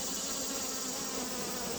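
Honey bees buzz in a dense, continuous drone during a hive inspection, steady and close throughout the short stretch.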